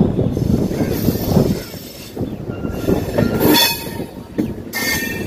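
A train pulls into Anand Vihar station four hours late, its heavy rumble of railcars and rolling wheels filling the scene, with bright wheel squeals and a horn-like tone cutting in near the end.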